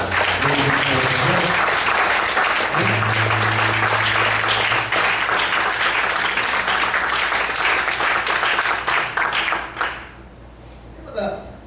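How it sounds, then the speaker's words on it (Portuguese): A church congregation claps and cheers loudly and steadily for about ten seconds before the applause fades out, leaving a few scattered claps. "Você pode aplaudir bem forte."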